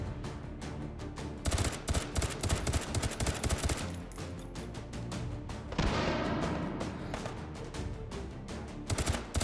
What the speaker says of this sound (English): That grenade that went off behind me didn't really hurt me that much.